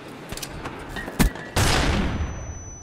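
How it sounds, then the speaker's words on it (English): A flashbang detonates in a first-person video game with a sudden broadband blast, followed by a sustained loud ringing wash that slowly fades, after a few earlier sharp gunfire-like cracks. "after you hear the flashbang go off"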